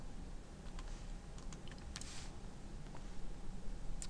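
Keys pressed on a TI graphing calculator, a quick run of small, close plastic clicks and taps over faint background hiss, with a brief cluster of presses near the middle and another at the end.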